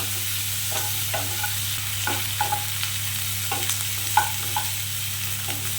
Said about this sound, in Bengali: পেঁয়াজটা একটু লাল করে ভাজতে হবে